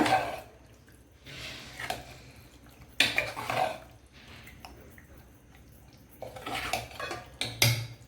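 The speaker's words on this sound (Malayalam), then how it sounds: "ഇനി ഇതെല്ലാം കൂടെ ഒന്ന് മിക്സ് ചെയ്യുക." Leftover curries, including sambar, are mixed together in a pot: intermittent bursts of spoon scraping and clinking against metal with wet squelching, separated by quiet gaps.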